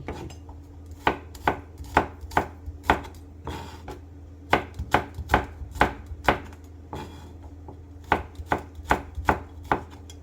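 A knife slicing garlic on a board, sharp distinct chopping taps in quick irregular bursts with short pauses between runs, close and clear with no talking.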